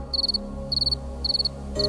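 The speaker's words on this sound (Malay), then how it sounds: "saya setia ditemani bunyi unggas dan cengkerik yang sentiasa berlagu di sepanjang malam" Crickets chirp at night in short bursts of rapid trilled pulses, repeating about every half second over a low steady background hum, close and clear with no talking.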